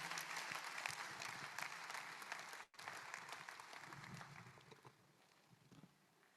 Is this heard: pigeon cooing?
no